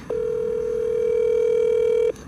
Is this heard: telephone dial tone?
yes